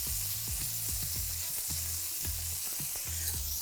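An Asian carp fillet fries in a pan over medium-high heat, a continuous bright sizzle with a repeating series of low knocks and scrapes from the pan, close and fairly quiet, no talking.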